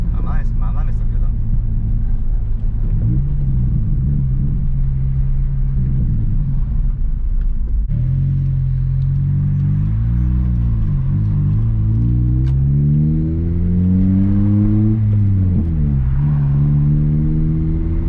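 An Acura RSX with new Energy Suspension bushings drives along a road, its engine rumbling steadily and shifting pitch as it accelerates and eases off, loud and close from inside the cabin.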